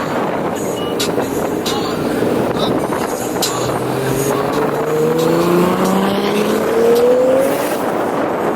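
A car engine revs on a two-step launch limiter and climbs in pitch over loud, rumbling background noise at a street car meet in Ocean City, Maryland, with rising whines repeating as it accelerates.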